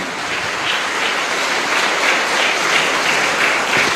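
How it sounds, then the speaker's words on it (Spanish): Loud, continuous applause from a church congregation at a Spanish-language Mass, a dense unbroken roar of clapping with a slight rhythmic swell. "Fuerte aplauso para nuestra comunidad resucitada."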